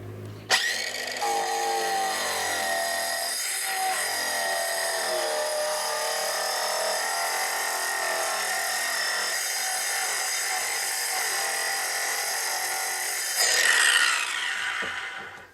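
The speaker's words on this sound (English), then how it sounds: "We're going to do it with a plunge cut first." A power tool plunge-cuts into a plastic 55-gallon barrel with a loud, steady, buzzing rasp. The sound runs nearly unbroken for about thirteen seconds, swells briefly near the end, then stops. No one speaks.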